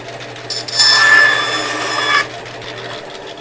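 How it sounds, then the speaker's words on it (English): A bandsaw cuts a small Purpleheart wood wedge, a loud bright whine of about a second and a half that rises on contact and stops abruptly, with the saw's steady low hum running before and after. "I just need to trim it with my bandsaw real quick."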